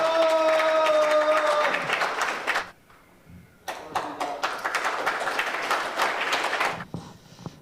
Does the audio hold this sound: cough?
no